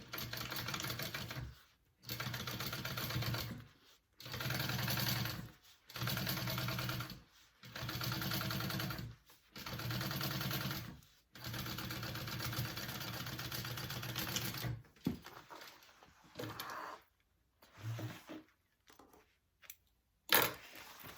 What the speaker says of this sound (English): you want to top stitch on that top lining piece that we just put on